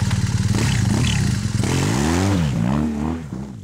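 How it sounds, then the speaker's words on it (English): BMW motorcycle, F800GS or HP2 on K60 tyres, revving hard in second gear up a steep, soft hill, with the engine note rising and bending in pitch as it climbs, loud and close throughout. "This time, Chris decided to give it a little more juice in second gear, and even with the K60s, he was able to make it up."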